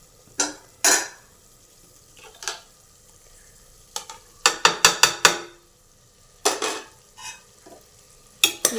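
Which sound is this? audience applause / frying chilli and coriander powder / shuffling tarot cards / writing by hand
frying chilli and coriander powder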